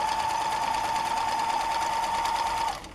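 Hand-cranked, foot-pedal sewing machine stitching fabric, giving a steady, close, even motor whir with a constant pitch that stops abruptly near the end.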